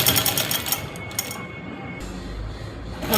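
Sewing machine stitching and double-stitching the centre seam of an Afghani salwar, a steady close whirring run with a brief pause in the middle before the motor picks up again.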